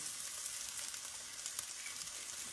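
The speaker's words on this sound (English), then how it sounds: "Cook our sausage, get our onion good." Sausage and onion frying in a pan for a sausage sandwich, with a soft, continuous hiss and crackle nearby and no voices.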